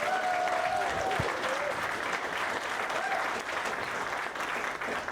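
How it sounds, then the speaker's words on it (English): Audience applause at a stand-up comedy show at a convention, a steady wash of clapping from a full room that holds for the whole stretch, with a brief whistle near the start. "So again, give a round of applause to Matt and Ben and everybody you've seen."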